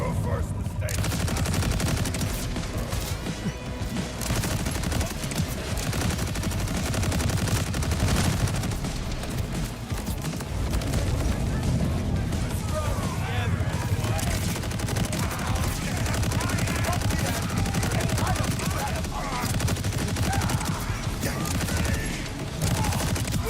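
Rapid gunfire from a weapon in Borderlands 4, dense continuous bursts of shots under a player's excited talk and game sound effects.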